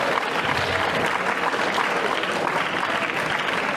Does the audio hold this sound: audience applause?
yes